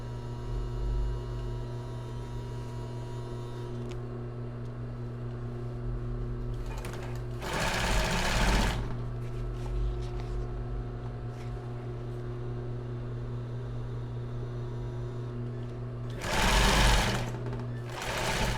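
A sewing machine stitches a crossover-base bra in two loud, rapid bursts, one lasting about a second and a later one somewhat shorter, over a constant electrical hum from the motor.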